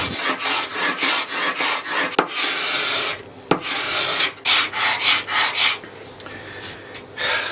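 Hand scraping across a hard factory lacquer finish on a mahogany cabinet gives close, rasping strokes in uneven bursts, with a few sharp clicks from the tool.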